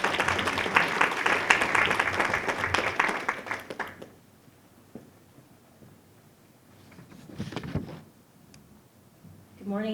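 An audience claps for a speaker at an Asian culture learning event: a steady burst of applause for about four seconds, fading to quiet, then a few scattered sounds before a voice begins.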